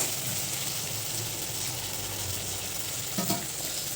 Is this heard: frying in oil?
yes